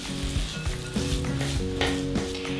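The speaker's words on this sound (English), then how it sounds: "we're going to stir these together until they're all mixed in" Raspberries, white chocolate chunks and oats stirred into cookie dough in a bowl, a steady thick scraping and squelching with repeated stirring strokes and light clinks, close and continuous with no talking.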